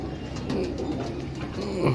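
A pigeon coos in low, soft, repeated throaty phrases close by, steady over a faint background hum.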